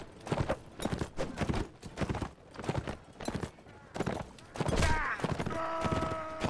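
Horses gallop in Mount & Blade Warband, a medieval combat game, their hooves pounding in a steady, rapid rhythm through the first few seconds before sustained tones and other noise take over near the end.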